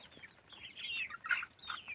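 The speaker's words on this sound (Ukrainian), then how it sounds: "Ох і кури." Chickens cluck close by in a short, uneven run of bright squawking calls, fairly faint with quiet gaps and no talk.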